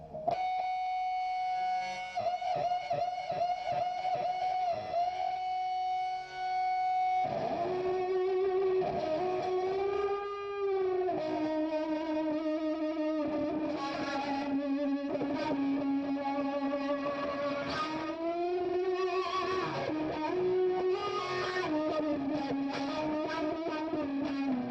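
Electric guitar played through a distortion effect, sustained overdriven notes and bending held tones ringing loud and continuous, with a choppy strummed passage at the start and no talking.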